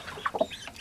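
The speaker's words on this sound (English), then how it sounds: "Sounds a lot like a chicken though" Mystery bird giving a brief, chicken-like clucking: two or three quick soft clucks, fairly close and alone.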